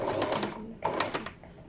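A sewing machine runs a reverse stitch on a seam in two short whirring bursts, close and fairly loud, with a brief pause between them.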